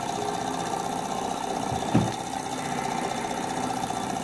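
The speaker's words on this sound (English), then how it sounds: "HA001 alcohol engine. Yeah. Damn guy, works good. Looks like it's getting faster." A small HA001 alcohol-fuelled model engine runs continuously with a fast, even mechanical chatter and hum, close by, with a brief louder knock partway through.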